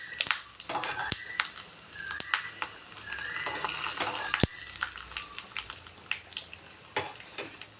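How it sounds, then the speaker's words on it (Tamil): Vadagam sizzles and crackles steadily while frying in hot oil, with sharp pops scattered throughout and no voices. "வடகம் வந்து நல்லா செவந்து வந்தால் தான் நல்லா வாசனையாக இருக்கும்"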